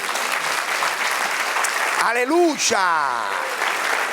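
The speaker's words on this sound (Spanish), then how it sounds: "Den un aplauso al Señor." A church congregation breaks into loud, sustained applause filling the whole stretch, with a voice calling out and a sung or shouted exclamation rising over the clapping near the middle.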